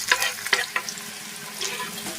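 Shallots tossed into hot coconut oil with popped mustard seeds for a Kerala-style curry: a few sharp crackles and spatters early on, then a softer, continuous frying hiss, close and moderately quiet.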